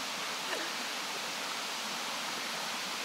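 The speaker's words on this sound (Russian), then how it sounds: "Дальше нам дорогу преградила речка" A small river flows through a botanical garden in Balchik, Bulgaria, a steady broadband rush of water, even and continuous throughout.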